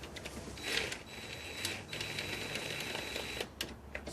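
A ratchet snugs bolts on a BMW E90 during a crankcase vent valve replacement, giving quiet bursts of rapid mechanical clicking in short runs, with no talking.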